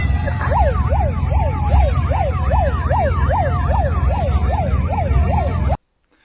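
An emergency vehicle siren wails in a fast, regular up-and-down sweep, loud and close over low road rumble, before stopping abruptly near the end.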